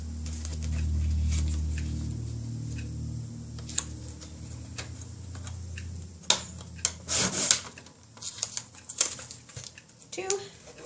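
A Fiskars paper trimmer slices card scraps, with steady sliding rubs and short crisp cuts and taps close by, while a person talks over it.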